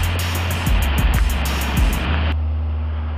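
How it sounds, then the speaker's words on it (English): Water from a garden hose runs steadily under a lawn mower deck, a broad continuous rush with a few soft splashes and knocks, then a sudden drop to a quieter, thinner flow near the end. "let the water run for a little bit and you're done"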